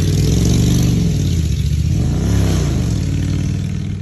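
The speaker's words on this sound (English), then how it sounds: "That guy on a motorcycle, they love to rev him up around here." A motorcycle engine revs loudly nearby at an outdoor bow-practice spot, rising and falling through two sustained throttle sweeps before easing off, with no talk over it.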